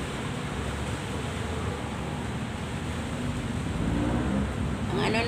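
Strong wind from Typhoon Paeng roars as a constant, loud broadband rush throughout, with no letup and a slight surge toward the end.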